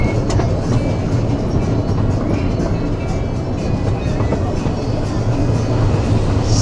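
Theme park railway ride train running along its tracks, a steady loud rumble with faint rhythmic clatter throughout, close and continuous with no talk.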